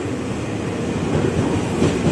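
An electric commuter train rumbles close by as it arrives at an elevated platform at Manggarai, a heavy low rolling drone with faint rhythmic clatter that grows slightly louder as it comes in.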